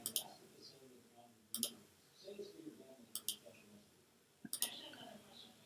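Computer mouse clicking in sharp pairs and single clicks, four short bursts spaced about a second and a half apart, close and crisp over a faint voice talking quietly.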